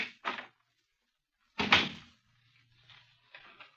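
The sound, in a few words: door opening in a radio drama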